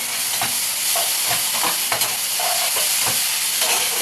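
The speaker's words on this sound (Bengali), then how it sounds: "লাল লাল করে ভেজে নিতে হবে ভালো করে।" A soybean gravy with sour yogurt, for a vegetarian mock-hilsa dish, sizzles steadily in a pan while a spoon stirs it, scraping and clinking at a close, constant level.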